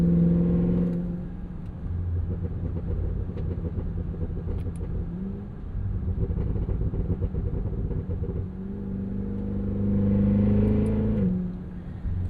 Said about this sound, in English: we've been having some fun with the LT4. Mostly just mimicking a G37 with a burble tune